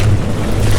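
Water splashes and churning sea surf in the naval combat game From The Depths during a battleship fight, a loud, dense wash of noise across the whole brief moment.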